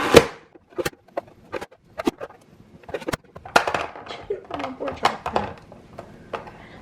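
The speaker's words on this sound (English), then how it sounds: "I'm going to start chopping this up the same way." Knife chopping food on a cutting board while preparing a budget family dinner, with a series of sharp, irregular close knocks spaced through the clip and a voice talking between and over them.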